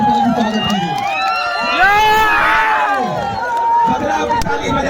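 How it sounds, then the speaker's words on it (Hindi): A loud crowd at a political rally in Bihar cheers and shouts, with whoops and excited voices swelling to a peak midway through before settling back into a busy roar. "ताली से प्रशांत किशोर आपका बेटा आपका भाई के जोरदार ताली से स्वागत कीजिए।"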